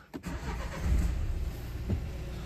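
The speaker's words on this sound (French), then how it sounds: "je mets mon véhicule en route." A Renault Scénic 4 engine cranks and catches, then settles into a steady low idle, fairly close and with no voices.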